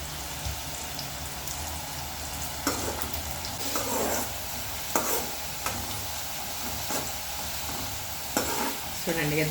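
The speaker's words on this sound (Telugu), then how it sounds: "ఇది ఉల్లిపాయ దగ్గర ఉండి వేయించుకోవాలండి ఏ మాత్రం మర్చిపోయినాం అనుకో బ్లాక్ అయిపోతాయి" Onions frying in a pan for chicken dum biryani, a steady sizzle broken by repeated scraping stirs at a loose, uneven rhythm, close and moderately loud with no talking.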